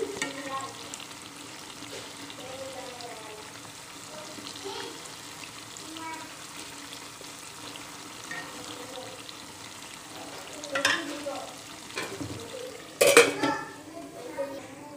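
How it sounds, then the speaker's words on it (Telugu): Small eggplants frying in oil for a stuffed eggplant curry, a soft steady sizzle with occasional stirring and sharp utensil clinks against the pan toward the end. "ఇలా వంకాయలని ఆయిల్లో ఫ్రై చేయండి"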